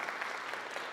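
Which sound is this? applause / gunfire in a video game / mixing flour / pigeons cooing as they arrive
applause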